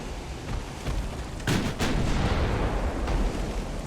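Naval gunfire in the warship battle game Ultimate Admiral Dreadnoughts: two sharp, heavy booms in quick succession rise out of a steady roaring battle rumble that fills the whole stretch.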